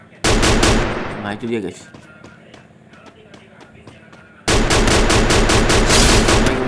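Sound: gunfire in the video game Free Fire

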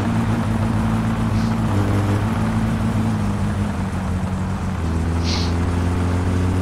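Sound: car engine with exhaust refitted, in video game My Summer Car

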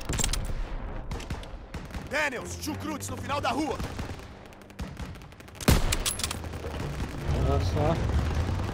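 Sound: sniper gunfire in Call of Duty WWII video game

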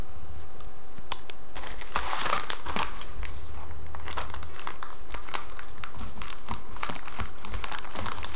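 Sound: cutting open product packaging with scissors

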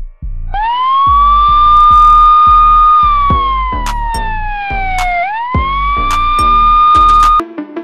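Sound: police car siren

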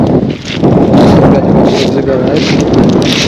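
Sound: strong wind

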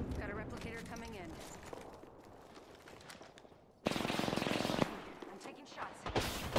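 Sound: gunfire from the video game Apex Legends

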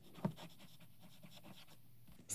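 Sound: writing with fountain pen fine nib on Rhodia dot pad

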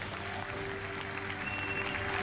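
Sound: standing ovation applause for Messi's eighth Ballon d'Or

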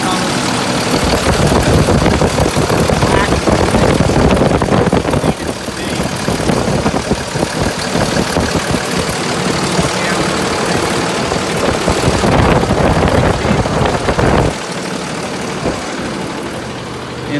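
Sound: 6.7 Cummins diesel engine idling

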